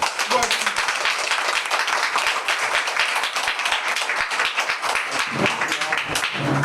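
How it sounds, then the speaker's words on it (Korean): Dense, steady applause from a crowd at a union election debate fills the room, with a few voices cheering over the clapping. "여러분들의 뜨거운 박수로 마무리하고자 합니다."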